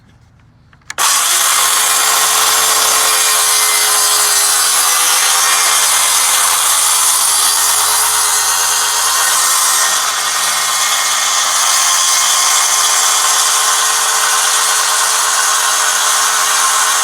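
A power saw rips a board of wood along a rip fence, with a wedge clamped in place, running loud and steady after a sharp start and holding an even, grinding whine throughout.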